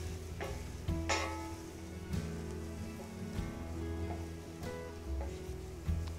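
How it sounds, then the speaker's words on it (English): Garlic sizzling in a pan with softened onions, a steady crackling fry under a low hum, with a few soft clinks and stirring scrapes. "So right when the onions are soft, I'm just going to add the garlic."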